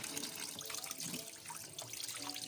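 Water runs steadily from a tap fed by a mountain source, a continuous splashing flow with no talking, close and fairly quiet.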